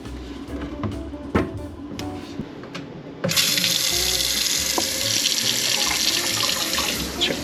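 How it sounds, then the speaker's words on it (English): A kitchen faucet is turned on about three seconds in, and running water then pours steadily into the sink, loud and close, after some quiet handling noises, during a check for frozen pipes. "Let's check out the kitchen sink. I'm gonna turn on the water."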